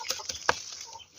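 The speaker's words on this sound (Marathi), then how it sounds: "कोंबडे आहेत." Rooster and hens give a few short, quick clucks at a village gathering in Konkan, a handful of brief close calls with one sharper squawk in the middle.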